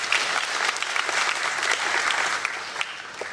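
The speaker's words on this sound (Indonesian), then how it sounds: "Boleh tepuk tangan untuk beliau." Audience at a university faculty graduation send-off ceremony in Indonesia clapping loudly and continuously, a dense, close wash of applause filling the whole moment.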